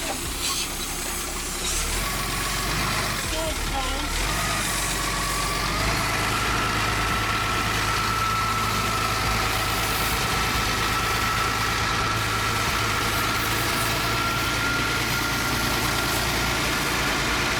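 A forklift engine idles steadily and loudly nearby, a continuous low rumble that holds throughout with no speech over it.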